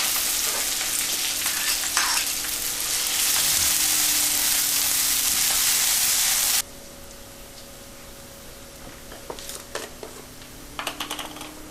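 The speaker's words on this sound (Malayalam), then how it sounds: "ഇനി അരിഞ്ഞു വെച്ചിരിക്കുന്ന സവോളയും പച്ചമുളകും ചേർത്ത് നന്നായിട്ടൊന്ന് വഴറ്റാം" Chopped onion and green chili sauté in a pan for beetroot thoran, a bright, loud hissing sizzle for the first half, then a sudden drop to a quieter background hum with scattered light clicks and taps.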